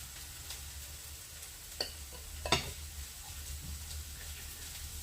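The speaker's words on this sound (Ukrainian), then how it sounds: "ми кидаємо нашу моркву і також обжарюємо." Quiet, steady sizzling of onion and carrot frying in a pan, with a couple of sharp clicks of a utensil stirring midway.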